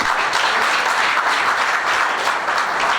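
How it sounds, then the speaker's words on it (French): Loud, dense audience applause at an African awards ceremony, a continuous roar of many clapping hands that holds steady throughout with no talking heard. "Applaudissez."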